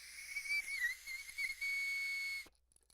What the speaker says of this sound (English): This is a whistle with a compass.